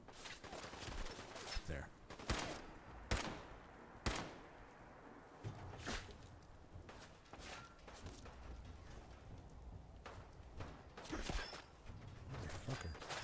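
Enemy gunfire in Fallout 4 cracks out in scattered loud single shots and short bursts spread across the stretch, with quieter gaps between and a brief spoken word.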